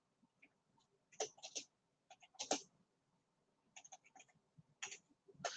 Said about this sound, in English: I'm just typing this in so that you all have a reference point.